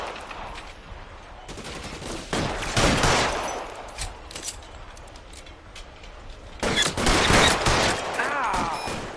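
Gunshots ring out during a shootout in the video game L.A. Noire, with clusters of loud, sharp reports in two main bursts and scattered shots between them, and voices heard among them.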